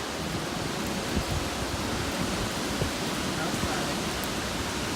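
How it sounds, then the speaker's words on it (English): Steady rushing wind and rain outside during a windstorm, a constant hiss with no breaks, moderately quiet. "Very windy and very rainy."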